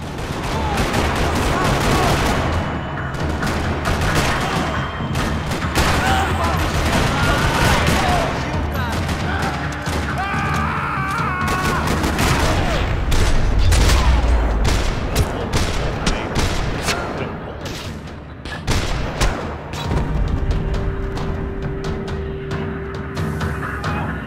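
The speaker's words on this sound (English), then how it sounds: "Another parking lot rattling with gunfire." Constant gunfire in a parking lot in the shooter game Max Payne 3: loud, dense bursts of rapid shots and booms stacked on top of one another, continuing without a break.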